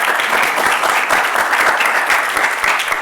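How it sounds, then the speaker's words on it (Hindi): Sustained, dense applause from an audience at an international marketing session, steady and loud throughout with no talking over it. "तालियां इस पे भी होनी चाहिए"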